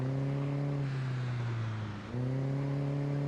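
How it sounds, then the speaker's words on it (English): A loud car engine in the zombie survival game Project Zomboid drones at a steady pitch, dips briefly as if shifting, then picks back up to a continuous low hum. "Follow my very loud car. It's so loud."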